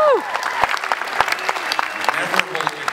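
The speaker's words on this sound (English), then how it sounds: "You can applaud if you like" Audience applause at a comic convention panel for a LEGO Batman movie, a scattered round of clapping from the crowd that keeps going under a voice.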